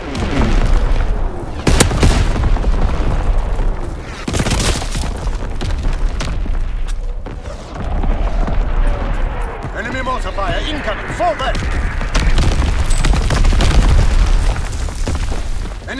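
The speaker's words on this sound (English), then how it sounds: "Incoming enemy artillery." Loud booms and blasts of enemy artillery fire in Call of Duty: WWII, heavy impacts landing repeatedly over a dense, continuous din of battlefield noise.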